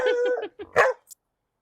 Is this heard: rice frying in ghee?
no